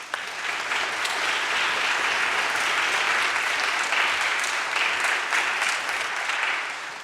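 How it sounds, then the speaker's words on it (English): A string camp concert audience applauds steadily and evenly for the young performers, a dense, continuous round of clapping heard alone. "So round of applause, please."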